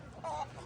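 Japanese bantam chickens at a poultry auction give a single short, clear cluck lasting well under a second, heard over a steady murmur of room noise.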